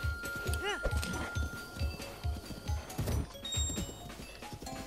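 Horse hooves in Zelda: Breath of the Wild, a steady galloping clip-clop with one short whinny, close and clear, while someone talks over the footfalls.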